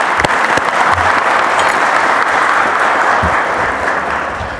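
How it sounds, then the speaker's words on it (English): A crowd applauds loudly and steadily at the Jersey City Fire Department promotion ceremony, with dense, sustained clapping that fills the room and begins to ease off toward the end. "so just want to give him a round of applause."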